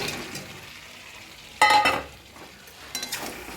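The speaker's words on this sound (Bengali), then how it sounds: "আলু ভাজা দিয়ে একটু নাড়াচাড়া করে জল দিয়ে দেবো।" Fried potatoes being stirred into browned, oil-separated meat in a pan, giving a low sizzle with two louder bursts of scraping and clattering as the mixture is turned.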